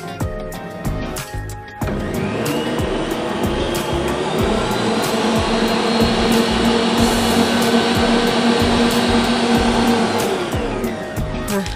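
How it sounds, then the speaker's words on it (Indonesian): A stand mixer works bread dough for roti sisir, a steady loud motor whir with a churning drone that runs almost continuously after a short start. "Saya akan lanjutkan dengan mixer ya,"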